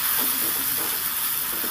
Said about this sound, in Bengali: এবার সুন্দর করে একটু নেড়ে চেড়ে মশলাটা কষিয়ে নেব